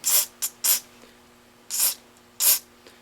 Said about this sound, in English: if you spray your stuff and she comes out the hole